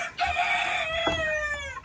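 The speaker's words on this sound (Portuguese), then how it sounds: "Tem esse galo aqui" A rooster crows among free-range chickens, alongside turkeys and guinea fowl, in a single loud, close cock-a-doodle-doo with rising and falling harmonic calls, with brief clucking underneath.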